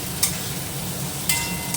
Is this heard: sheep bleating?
no